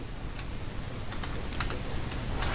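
Rapid, light clicks of a computer keyboard as a search keyword is typed, steady and close-up for a couple of seconds with no talk.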